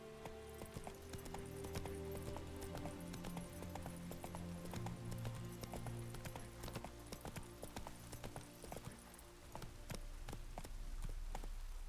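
Roach, the horse in The Witcher 3, gallops with rapid, regular hoofbeats over a background of game ambience and music, the clatter continuing steadily at moderate volume.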